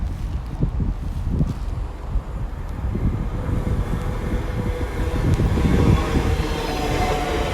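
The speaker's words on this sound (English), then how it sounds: "When they go through, it's going to be pretty hard to get the numbers because they do go zooming through." A TfL Rail Class 345 electric train rushes through Maidenhead station on the Great Western Main Line, a continuous close rumble of wheels and rattling carriages that swells slightly toward the end.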